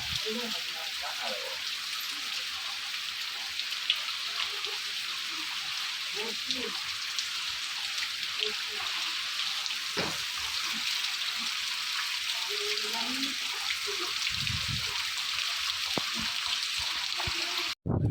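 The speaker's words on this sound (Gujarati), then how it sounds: "જોરદાર વરસાદ ચાલુ છે અત્યારે" Steady hiss of heavy rain over waterlogged farm fields fills the background throughout, with scattered low knocks and faint voices murmuring underneath.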